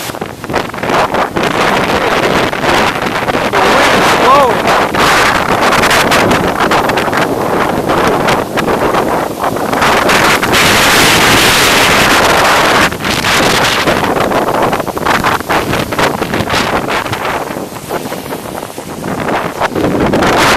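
Hurricane winds gust loudly and continuously in Brooklyn, New York, roaring across the microphone in a dense, unbroken rush with surging peaks and no voices.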